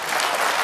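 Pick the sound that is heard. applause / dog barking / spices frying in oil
applause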